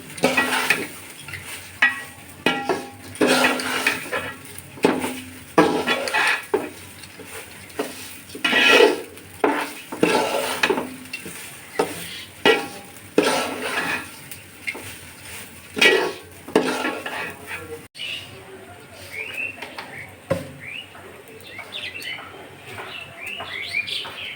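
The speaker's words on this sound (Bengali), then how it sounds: "ভালো করে চালের সঙ্গে মিশিয়ে কষিয়ে নিচ্ছি" A spoon scrapes and stirs rice against a pot while it sautés for pulao, in repeated rhythmic strokes with a faint sizzle underneath. Birds chirp in the background near the end.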